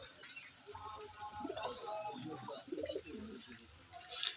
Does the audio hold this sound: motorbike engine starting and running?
no